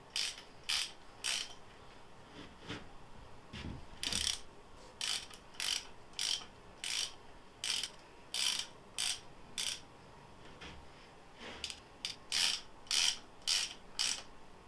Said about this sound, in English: So now we're just going to tighten all these down